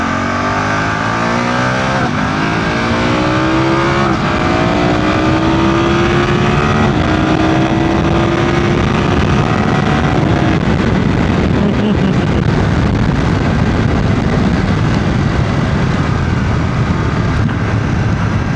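A BMW F 900 GS motorcycle's engine and exhaust drone loudly while riding, with the revs climbing steadily through the gears before settling into a constant roar.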